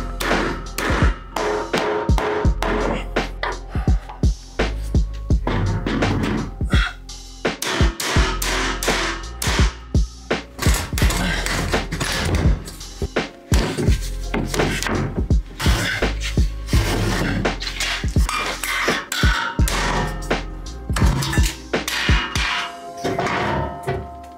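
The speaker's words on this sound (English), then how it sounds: "knock these shelves from the bottom" Metal warehouse shelves being knocked from the bottom during a renovation, a long series of loud, irregular bangs, thuds and clattering impacts that keep coming close together.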